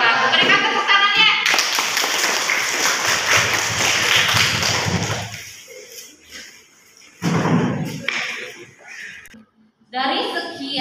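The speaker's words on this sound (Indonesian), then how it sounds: "Berikan tepuk tangannya." Students in a classroom burst into loud, dense hand clapping for about five seconds, then it fades to quieter talking with a few short noisy bursts.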